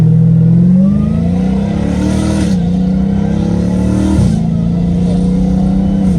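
Dodge Challenger Hellcat Redeye V8 accelerating hard in first gear, a loud close engine note rising steadily in pitch, dipping briefly at about 2.5 and 4.2 seconds, then climbing again without pause.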